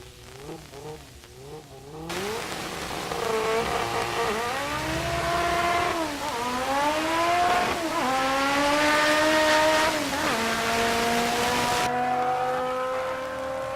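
A 1993 Honda Civic and an S197 Mustang launch in a drag race, engines screaming up through rising revs with repeated gear-change dips and a sustained loud roar that cuts off abruptly, no voices.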